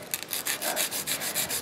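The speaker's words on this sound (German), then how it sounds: "Und unseren reparierten Nagel feile ich mir jetzt in Form." A repaired natural fingernail is filed into shape with quick back-and-forth rasping strokes, a steady rhythmic scratch heard close up with no talking.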